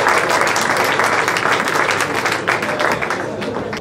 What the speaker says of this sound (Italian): un bel applauso. Grazie Marco